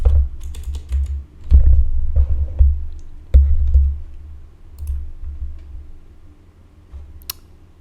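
Typing on a computer keyboard while searching in a North Korean Red Star OS browser: bursts of close, loud key clicks and clacks with uneven pauses, no voices.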